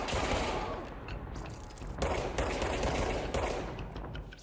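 Gunfire in the game Control rattles in rapid, repeated bursts, with sharp cracks standing out around the two and three-and-a-half second marks, fairly quiet in the mix and with no talking.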